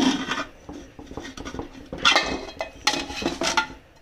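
A metal pot set into a larger cooking vessel holding water, during home cooking of pav bhaji: clattering knocks, scrapes and clinks of metal on metal in several uneven bursts, close and fairly loud.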